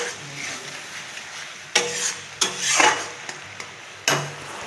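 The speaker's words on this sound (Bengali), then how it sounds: "দিয়ে আবার কষাতে থাকছি।" A spice paste for a bitter gourd and potato dish is sautéed with a splash of water in a pan. It gives a steady close sizzle broken by several sharp scraping stirs of a spatula, with no talking.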